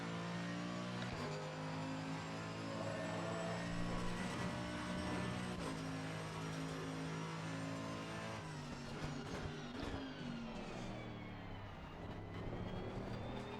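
A race car engine held at high revs through a lap, a loud, continuous close-up drone with steady harmonics that shifts in pitch as the car accelerates and changes gear.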